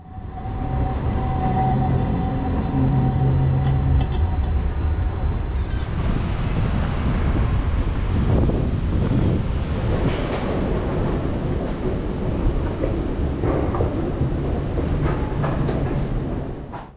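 A Lumo passenger train rolls into Edinburgh Waverley station, its steady rumble and rail clatter heard from on board, loud and continuous, with a fading whine early on as the train slows.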